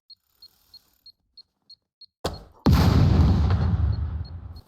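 A suicide puppet explodes in SCUM: faint evenly spaced beeps tick away, then a sharp blast hits, followed by a loud, sustained rumbling roar that slowly fades.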